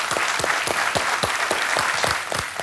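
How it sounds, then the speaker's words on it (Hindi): Studio audience applause on a quiz show set, a dense, steady burst of many hands clapping close and loud throughout, with no voices rising above it. "तालियों के साथ उनका अभिनंदन"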